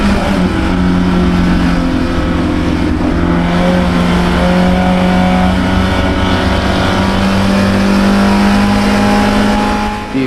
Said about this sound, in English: The acceleration of that 800 horsepower NASCAR engine is amazing.